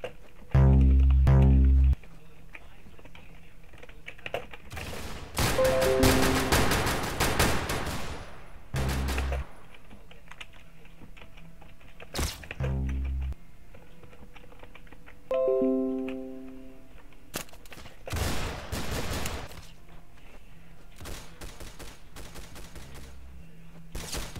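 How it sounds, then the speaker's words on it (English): Bursts of rapid gunfire from the Roblox shooter game Arsenal, fired in short volleys spaced across the round, with quieter single clicks and game effects between them and no talk. "I heard people shooting behind me"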